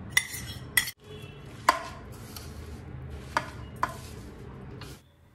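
Jaggery and ghee stirred by hand into a moong dal ladoo mixture, a steady close scraping texture punctuated by several sharp clinks of a spoon against the pan, stopping abruptly near the end.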